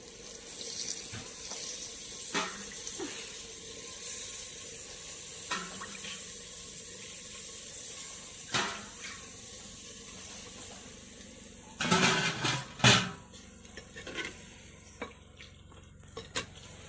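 Water runs and pours steadily at a kitchen sink while chicken curry is prepared in a clay pot, with scattered clinks of utensils and pots and a louder burst of splashing and clattering toward the end.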